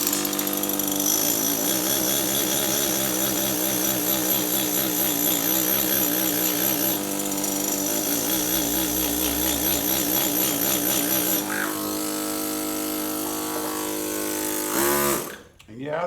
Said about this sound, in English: this is just a full stroke machine. Yeah, it's just a straight carbide chisel on granite.